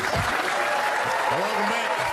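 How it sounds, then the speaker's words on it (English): Studio audience applauding for comedian Dave Chappelle on a stand-up comedy show, steady dense clapping throughout with a few voices and whoops rising over it. "Some more applause for Dave, please"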